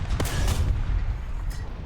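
Tank cannon fire in War Thunder gameplay: heavy booming shots in quick succession, loud and close, over a constant low rumble of engines, with no talking.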